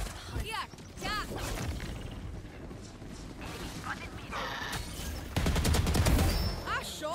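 Vandal rifle gunfire in Valorant comes in several quick bursts of sharp shots, with loud clusters near the end, mixed with game effects and a player's voice.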